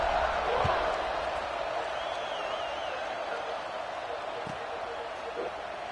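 A stadium crowd at a Clemson college football game in an NCAA video game roars as a steady, distant wash of noise after a touchdown drive.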